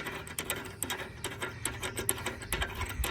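A 3/8-inch socket ratchet tightens a bolt on an Indian Chief motorcycle during a passenger peg and bar install, giving a steady run of close, rasping clicks and metal scrapes in quick repeated strokes.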